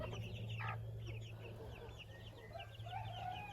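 Broody mother hens cluck softly and repeatedly nearby, with scattered chirps from their young chicks over a quiet outdoor background.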